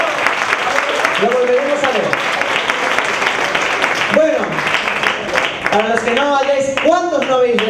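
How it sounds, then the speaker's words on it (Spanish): Audience applause at a live show introducing an artist named Diego de la Vega; continuous clapping from a crowd, with voices and shouts rising over it at times. "Un aplauso para Diego de la Vega"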